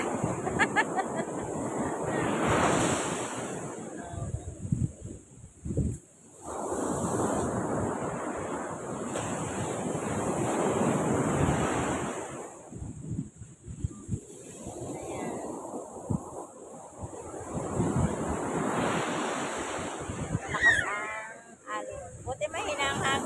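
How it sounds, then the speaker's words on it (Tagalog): Ocean waves break and wash up the shore in long, rolling surges, with wind gusting across the microphone between them. "Mahalo tayo sa tunog ng dagat."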